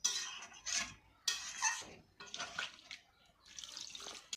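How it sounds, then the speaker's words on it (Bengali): Water poured into a pan of cooking chicken, a splashy hiss in several short bursts, close by, with no talk. "এবার আমি এখানে জল দিয়ে দেবো"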